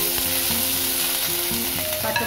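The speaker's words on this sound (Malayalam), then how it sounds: "അതിന് ശേഷം ഇഞ്ചി ഇട്ട് കൊടുക്കാം." Ginger sizzling in hot coconut oil in a pan with garlic for spinach cutlets, a dense continuous crackling fry with a faint stirring clink near the end, close and fairly loud, with no talk.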